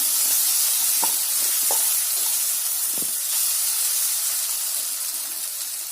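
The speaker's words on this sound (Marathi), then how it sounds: "कैरीचा केस फक्त परतून घ्यायचा आहे शिजवायचा नाही" Raw mango pieces sautéing with spices in a pan for a mango rice thali, a steady loud hiss of frying with a few soft scraping stirs near the start, no voices.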